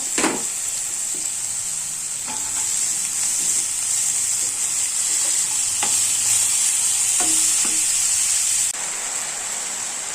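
Chopped banana flower stirred in a hot frying pan, giving a loud continuous hiss with intermittent scraping and stirring strokes across the whole stretch, up close and with no talk.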